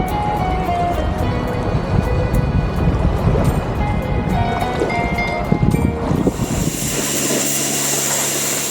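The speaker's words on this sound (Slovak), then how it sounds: "Tak sa nachádzame v Palerme na najkrajšej pláži." Waves wash onto a beach in Palermo, Sicily, in a steady broadband rush mixed with wind buffeting the microphone, and the sound shifts toward the end.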